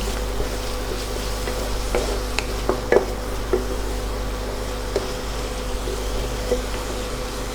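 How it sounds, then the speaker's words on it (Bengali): Fish curry with tomato and ground coriander-cumin stirred in a pan, scattered spoon scrapes and clinks over a low steady sizzle, close and moderate in level. "সবগুলোই ভালো করে মিক্স করে নিই"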